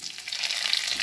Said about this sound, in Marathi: इथे तेल गरम झालेलं आहे. मोहरी, जिरे,